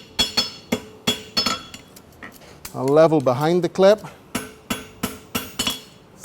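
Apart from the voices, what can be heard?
hammer striking a horseshoe to draw a clip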